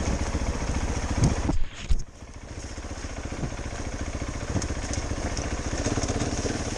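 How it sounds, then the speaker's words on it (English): KTM 690 Enduro R single-cylinder motorcycle on an off-road ride, its engine thumping steadily and close with a rapid even pulse, a brief dip in revs midway, then picking back up. "Brandon's turn at the KTM."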